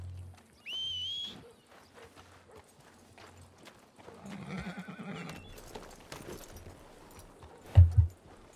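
Horse hooves clip-clop in Red Dead Redemption II, steady walking beats near a stable, with a whinny and other game sounds mixed in.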